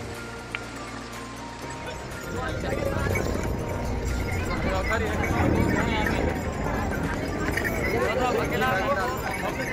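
Horses clip-clopping along the Kedarnath pilgrimage trail, the steady hoof beats blending into a busy outdoor bustle of moving animals and crowd noise at moderate distance.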